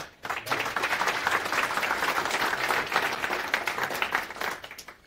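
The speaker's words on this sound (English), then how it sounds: "So round of applause for him, please." A lecture audience bursts into applause for a researcher about to give a talk, steady dense clapping that starts abruptly and fades out after about five seconds.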